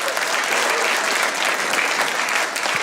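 Audience at a stand-up comedy show breaking into dense, sustained applause, many hands clapping together in a steady wash that fills the room.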